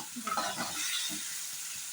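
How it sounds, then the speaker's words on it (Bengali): Spice paste for prawn bhuna sizzles in hot oil in a pan while a spoon scrapes and stirs it in a few quick strokes, close and fairly quiet, with no talking. "এটা দিয়ে মশলাটা একটু ভালো করে নেড়ে দেবো"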